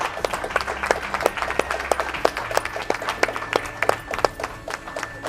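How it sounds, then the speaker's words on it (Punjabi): Studio audience applause for contestants at the grand finale of a Canadian Punjabi cooking competition, a steady crowd clapping with dense, even hand claps throughout and no speech. "ਇੱਕ ਵਾਰ ਦਿਲੋਂ ਤਾੜੀਆਂ ਸਾਰਿਆਂ ਦੇ ਲਈ ਜੀ।"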